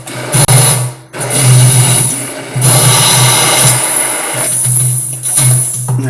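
A blender purees vegetables for a vegetarian homemade pizza sauce with a loud, steady motor whir in several bursts, briefly cutting out and starting again, with no talking.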